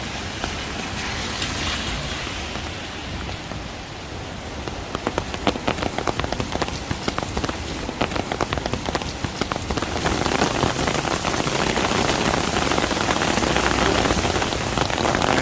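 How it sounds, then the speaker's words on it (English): Rain patters on a surface in Bangkok during rainy season, light at first and then thickening into a dense, steady rush of drops over the last several seconds. No one speaks. "So it's starting a little bit more to rain now there in front."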